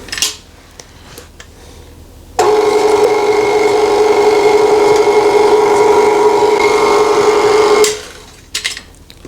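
An electric mixer whirs steadily for about five seconds while blending chocolate cupcake batter with pudding from a box mix. A few light clicks come before and after.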